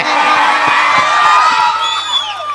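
An audience at a North Karnataka stage show cheers and whoops as a singer walks on, a steady roar of crowd noise with scattered shouts and claps throughout.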